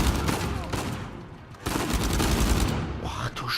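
Machine gun fire in the video game Uncharted 4: A Thief's End, a loud, dense fusillade of rapid shots with a brief lull near the middle before the burst resumes.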